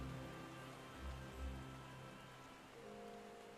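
Soft, steady rainfall in Final Fantasy XIV video game, a faint even patter on surfaces with a couple of low muffled thumps beneath it.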